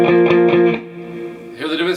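Electric guitar plays a riff without accents, evenly picked and steady, with a sustained chord ringing out near the end; no voice.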